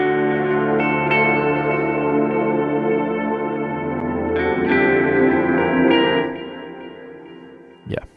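A sustained electric guitar passage drenched in echo and reverb, layered riffs shimmering with chorus-like effects, fading out near the end before a short burst.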